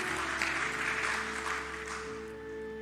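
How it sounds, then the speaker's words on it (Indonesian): A church congregation gives a steady wash of applause that starts dense and loud, then slowly thins and fades over a few seconds, with a faint sustained tone lingering underneath. "Tepuk tangan paling meriah buat Tuhan Yesus."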